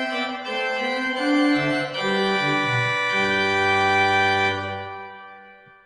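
A pipe organ mixture stop of octaves and fifths without a tierce, sounded with the unison, plays a bright, sharp sustained chord progression that moves through several held notes before fading out.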